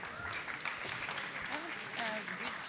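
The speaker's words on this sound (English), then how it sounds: "Let's give a round of applause to Solène." Audience applause at an urban transport governance conference session, fairly quiet, steady clapping from the room with voices heard through it.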